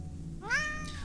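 A cat in the video game Burnhouse Lane gives a single clear, rising-then-falling meow that starts about a third of the way in, heard alone over a faint steady background hum.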